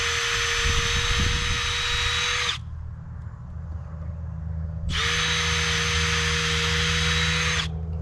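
Power drill driving screws into a wooden garden trellis, two close, loud whining bursts of a few seconds each with a steady motor pitch, separated by a short pause.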